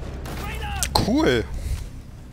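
Rainbow Six Siege gunfire, a few sharp shots mixed with game effects and bursts of talk from players over the action.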